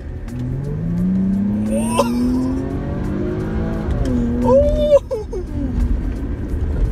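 A Jaguar F-Pace S accelerates hard, its engine note climbing steadily in a loud, close rev that swells and then briefly drops as the gears change, with the engine roar continuing afterward.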